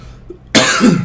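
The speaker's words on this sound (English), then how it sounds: "You guys tuned in to listen to me cough." A single sharp, close cough bursts out after a moment of near silence.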